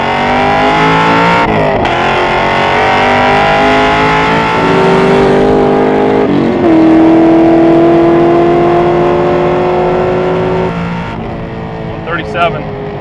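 A 636 HP Chevrolet Camaro Z/28 accelerating on a track, its loud engine climbing in pitch through several gears with short shift breaks, heard from inside the car with someone talking over it.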